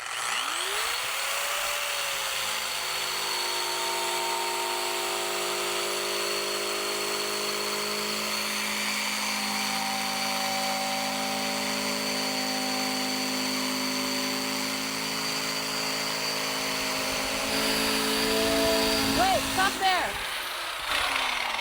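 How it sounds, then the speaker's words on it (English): A handheld metal conditioning tool grinds steadily across a boat's painted surface during a straight-line pass, a continuous motor whine with a brief pitch dip near the end. "I'm going to attempt at holding the metal conditioning tool steady in a straight line"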